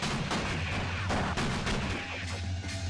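Gunfire from the video game Fear Effect, dense and loud, with repeated sharp blasts over a constant rumbling game soundtrack and no talking.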